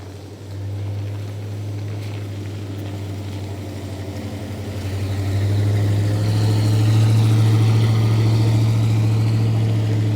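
An old 1981 Dodge truck idling with a steady low rumble close by, the engine note rising and growing louder about halfway through and holding there.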